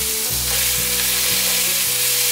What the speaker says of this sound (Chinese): 姜末炒香后放入杏鲍菇， 把杏鲍菇炒软